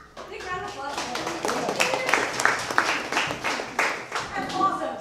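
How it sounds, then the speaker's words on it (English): Applause from an audience at a community input meeting on emergency readiness, a dense wash of many hands clapping steadily for several seconds with some voices mixed in. "Big round of applause"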